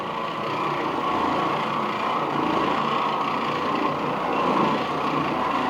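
An Oreck Orbiter floor machine fitted with a bonnet pad works over a heavily soiled carpet, giving off a steady, loud motor drone that holds evenly throughout with no talking.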